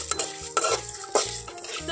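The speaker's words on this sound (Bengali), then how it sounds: "এখন খুব ভালো করে হালকা আঁচে ভেজে নেব।" Ground spices stirred and fried in a pan over low heat, a utensil scraping and clinking against the metal in a steady rhythm of short bursts, close up, with a faint sizzle underneath.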